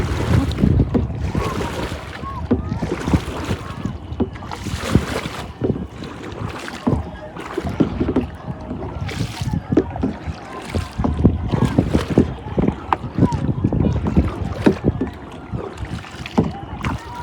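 Kayak paddling on open water near Uttara Diabari, with steady rhythmic splashing strokes, wind buffeting the microphone and lapping water throughout, close and fairly loud, with occasional voices.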